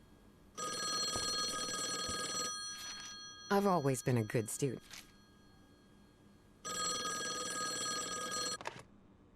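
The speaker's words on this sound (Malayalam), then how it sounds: "ഫോൺ അടിക്കുന്നു." An old-style telephone bell rings in the horror adventure video game Call of the Elder Gods, two long loud bursts separated by a pause, with a brief spoken line between them.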